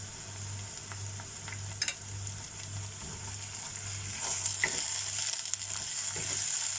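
Onion with ginger garlic paste frying in a pan for palak paneer, a steady soft sizzle with light stirring clicks and scrapes throughout, growing slightly louder toward the end.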